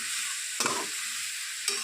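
Spices with salt, turmeric and a little sugar sizzle in a pan, a steady close hiss broken twice by brief scraping stirs.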